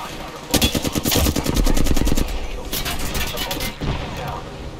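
Rapid automatic gunfire in the Apex Legends battle royale game, bursts of loud close shots in quick succession with booming impacts, a pause and then another burst.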